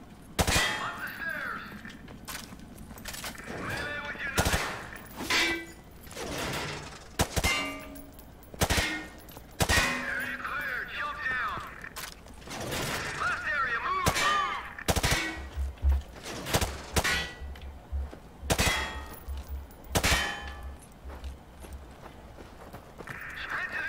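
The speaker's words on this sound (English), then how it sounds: "Okay, I'm just shooting everything here." Gunfire in the video game Modern Warfare 2 Remastered, sharp close shots fired one at a time and in short clusters, with a voice speaking between some of them.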